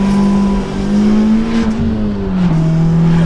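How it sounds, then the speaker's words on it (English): Loud, close engine drone of a Honda Civic with a new exhaust accelerating hard during a 0 to 60 run, the steady tone rising slightly and then dipping briefly as if shifting before pulling on again. "All right, let's get that 0 to 60 test run."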